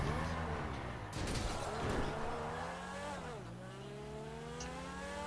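Race car engine in a racing video game, a steady droning whine with rising and falling pitch sweeps as it shifts and accelerates through a lap, continuous and fairly loud.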